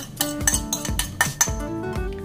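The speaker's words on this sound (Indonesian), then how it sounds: "ini kita masukkan bawang putih" Garlic, shallots, lemongrass and coriander are added to a cooking pan, producing a quick series of close metallic clinks and scrapes of a utensil against the pan, loud and irregular with no talking.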